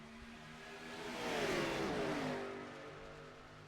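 Race cars accelerating together at the green-flag start at Daytona in a racing game, a swelling engine roar with rising whine that peaks mid-clip and eases off, no voices.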